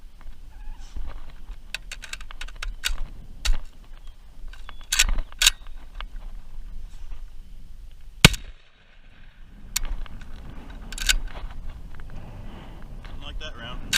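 A home-built gun is test-fired indoors, giving a handful of sharp, isolated cracks spaced several seconds apart, one standing out louder, amid voices and light handling noise.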